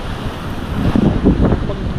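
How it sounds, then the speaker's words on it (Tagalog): Strong sea waves break at the Sabang shore after typhoon Ramil, a loud continuous roar of surf mixed with heavy wind noise on the microphone. "Medyo malakas yung alon"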